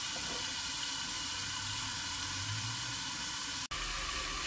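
Blue crab stir-fried with curry powder in a pan, giving a steady, hissing sizzle throughout with a brief dropout near the end and no voices.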